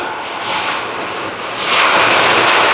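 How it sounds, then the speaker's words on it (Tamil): Loud rushing wind with a hiss of rain during outdoor cooking, gusting stronger toward the end, close to the microphone. "இன்னும் மழை நண்பர்களே, காற்றை பாருங்க."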